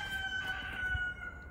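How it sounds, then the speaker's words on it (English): A rooster crows once outdoors in winter, a short, faint and distant call over quiet background. "That rooster, man, he's something. He's not going to quit."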